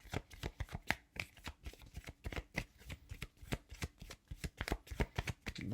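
Tarot or oracle cards shuffled during a card reading: a rapid, steady run of crisp flicking and riffling clicks, close and fairly quiet, with no one speaking.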